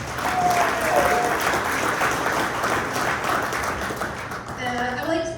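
Audience applause for event sponsors at a mayoral update breakfast in Corona, a dense, steady wash of clapping from a large crowd that fades near the end as musical tones come in.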